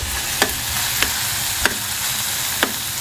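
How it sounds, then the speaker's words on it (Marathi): Onion and curry leaves sautéing in a pan for a crab curry make a loud, close, continuous sizzle, punctuated by four sharp spatula taps against the pan. "कढीपत्ता टाकायचा कांदा लाल होईपर्यंत चांगला परतून घ्यायचा आहे"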